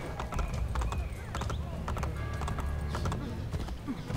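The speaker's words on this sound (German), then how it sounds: "Oder wir reiten einfach zu Leonardo." Horse hooves clip-clopping at a steady riding pace in Assassin's Creed Brotherhood, a continuous rhythmic gait over game ambience with a brief whinny, no speech.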